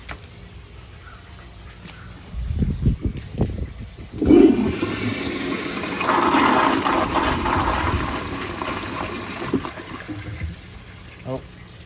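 A 1978 American Standard Glenco flushometer toilet with galvanized piping gives a weaker flush: a sharp valve clunk, then a rushing, gurgling surge of water that holds steady for several seconds and tapers off, close by, with a voice talking briefly.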